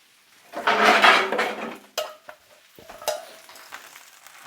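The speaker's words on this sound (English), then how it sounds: "Set a pan lid on there." A metal lid scrapes and settles onto a frying pan of greens and butter at an outdoor breakfast cook. Sizzling swells for about a second, then a few sharp clinks and knocks follow against the quieter crackle of the pan.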